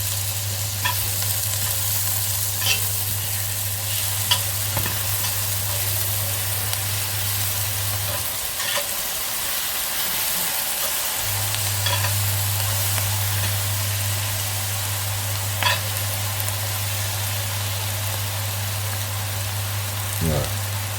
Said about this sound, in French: l'idée étant de mettre les oignons à confire un peu